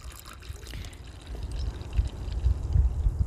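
Coolant pouring into a Chevy Volt engine's cooling system during a heated thermostat repair, a liquid trickle that builds into a fuller, gurgling pour, close by, with no talk.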